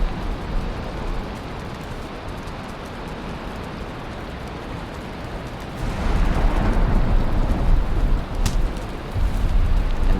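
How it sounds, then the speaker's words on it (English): Stormy weather in the Valheim video game: a steady, dense wash of rain and wind fills the whole stretch, swelling louder past the midpoint with low rumbling like distant thunder and a brief sharp crackle near the end. "Man, this storm is really just berserk out here."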